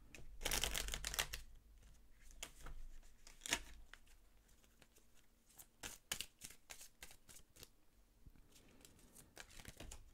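Oracle cards are shuffled by hand, giving a burst of riffling flutters followed by quieter, irregular slaps and clicks of cards, close but soft.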